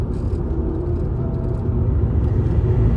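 A stock Volkswagen Jetta GLI engine in eco mode hums at a low, steady rumble from inside the cabin, swelling slightly louder partway through.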